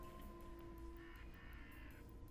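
Faint crow cawing drifts over a steady humming drone in a Halloween-themed Quake map, with a couple of hoarse calls set back in the ambience.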